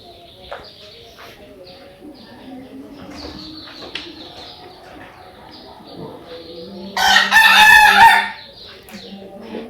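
Chickens on a farm, one rooster letting out a loud, close crow near the end, with softer clucks and bird calls scattered throughout.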